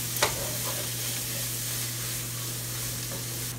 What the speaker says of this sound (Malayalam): ഒന്നും കൂടെ ഒന്ന് ഇളക്കി കൊടുക്കാം.